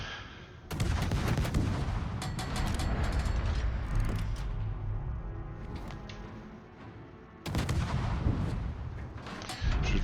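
Main battery salvos from the Tier X US heavy cruiser Hawaii in World of Warships: loud rolling booms and crackling gunfire in a long sustained barrage, easing midway, then a fresh heavy volley near the end, no speech.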